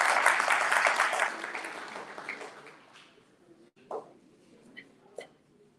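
An audience at a Newark culinary and logistics graduation claps loudly for a couple of seconds, then the applause thins and fades, leaving a few faint scattered claps and small noises in a quiet room.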